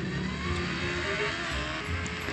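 A concrete mixer truck drives in a video game, giving off a steady, loud engine drone with a low rumble through the short stretch and no talk.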